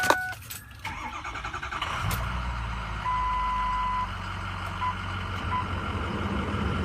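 A 2006 Ford F350 truck engine cranks and catches, then settles into a steady low idle rumble, with a few short electronic beeps chiming over the running engine.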